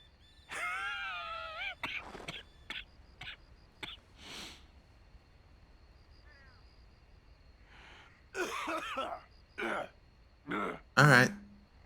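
Arthur Morgan, the Red Dead Redemption 2 character, coughs, clears his throat and groans in a series of short, harsh bursts spread across the stretch, with quiet gaps between them.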